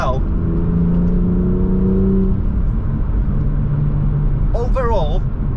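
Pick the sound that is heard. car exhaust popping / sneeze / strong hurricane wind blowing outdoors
car exhaust popping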